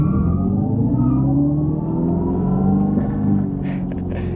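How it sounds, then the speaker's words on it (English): Synthetic engine rumble from an electric Dodge Charger's launch control, a steady low droning hum at loud volume that wavers slightly, with a few brief crackly bursts near the end like faint fake backfire pops. "It does a little backfire on the fake sounds as well."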